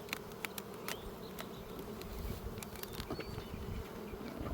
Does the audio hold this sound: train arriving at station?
no